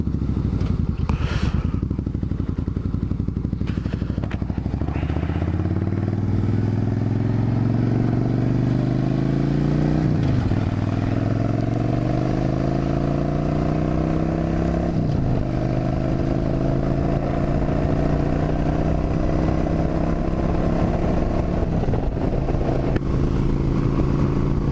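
A motorcycle rides along a 55 mph back road, its engine loud and close as it revs upward through several gear changes, each shift dropping the pitch before it climbs again under constant wind rush.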